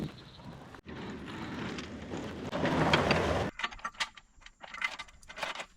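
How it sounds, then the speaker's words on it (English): Thunderstorm over a farm pond: dense rain hiss with a low thunder rumble for a few seconds, then the downpour drops away to scattered sharp drips and patters. "So a little thunderstorm got in the way"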